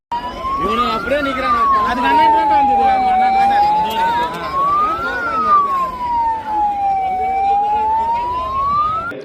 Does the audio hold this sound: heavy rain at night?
no